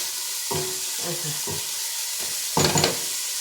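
Vegetables for borscht frying in a pan give a steady close sizzle, with several short bursts of stirring and clatter and a louder, fuller crackle near the end.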